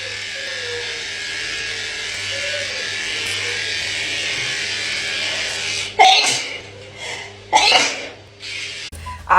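Several loud, sharp sneezes come one after another close to the mic, breaking in over a steady electric buzzing hum that fills the background.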